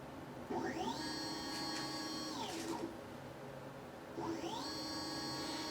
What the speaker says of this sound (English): Throw it into the laser engraver and let's see what we can do with that.